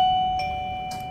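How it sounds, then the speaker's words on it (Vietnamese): A plug-in gate doorbell rings a single clear electronic chime tone that holds steadily and then fades, close and fairly loud. "Cái này gọi là chuông cổng các bác nhá."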